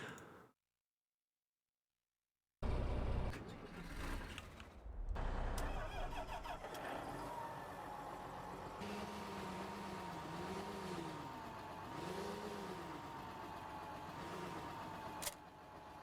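A tractor engine in the Farming Simulator 15 video game cranks and starts abruptly after a brief silence, then settles into a steady idle with rising and falling revs, loud and close throughout.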